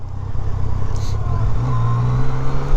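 A new motorcycle's engine revs steadily with the clutch fully disengaged, slow to re-engage, giving a loud, close, rising drone with a clattery edge and no talk over it.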